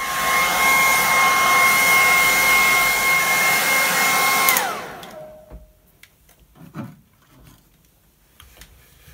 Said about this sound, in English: I'm just going to dry it out with a hairdryer